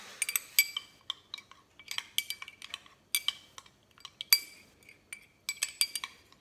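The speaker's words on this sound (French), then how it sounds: "Je mélange le tout." A utensil clinks and scrapes against a small dish while stirring a garlic-based homemade dewormer mixture, a close, irregular series of light metallic taps.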